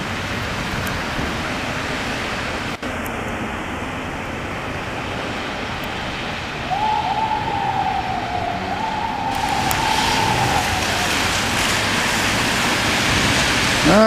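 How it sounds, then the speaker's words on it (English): An ambulance siren wails along Papineau in Montreal on a rainy street, a rising and falling tone arriving midway and holding over steady rain hiss and traffic wash, moderately close. "That ambulance is a good chance of it heading to Notre Dame Hospital, the next light."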